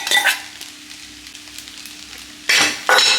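Fried eggs stirred into egg rice in a pan give a quiet, steady sizzle with sparse light scrapes, then two loud bursts of spatula scraping and clatter near the end.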